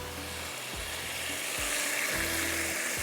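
Tarka of green chillies and curry leaves frying in oil, a continuous close sizzle with soft hiss, plus a few low thumps from the pan about every three quarters of a second.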